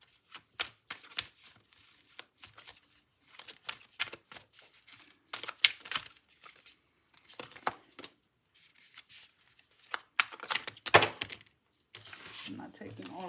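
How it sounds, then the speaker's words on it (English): Tarot cards shuffled and drawn from a deck, giving a series of quick papery riffles and slaps in irregular bursts with short pauses between, close and fairly quiet. "we're gonna go ahead and we're gonna pull out some cards and see what the cards have to say"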